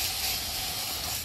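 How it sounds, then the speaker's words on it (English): A hose sprays water over turtle ponds, a close, steady hiss of spray that holds evenly throughout the brief moment with no talking. "And then got to spray all the turtle ponds"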